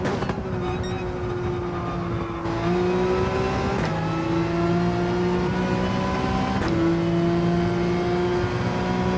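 A Porsche 911 accelerates hard out of a turn at the Red Bull Ring in a Gran Turismo online race. The engine note climbs steadily and loudly, drops briefly at about three gear shifts, then rises again. No one speaks.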